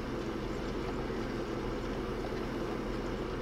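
An old tractor in Farming Simulator 19, driving on a Hungary map, gives off a dense, even engine rumble that holds steady throughout without any talking.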